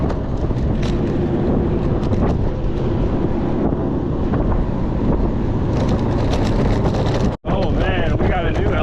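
Wind buffeting the microphone while riding a Honda Motocompacto electric scooter along a trail: a continuous loud rushing roar that cuts out briefly near the end.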